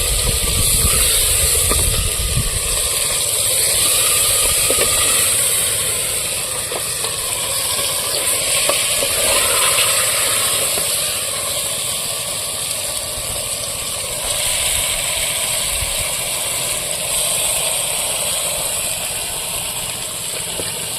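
Chicken meat dropped into fried onions in a village-style clay pot sizzles loudly and steadily, with crackling and a bright hiss that runs throughout.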